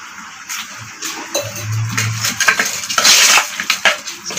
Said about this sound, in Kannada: ನೀರು ಹಾಕ್ಬಿಟ್ಟು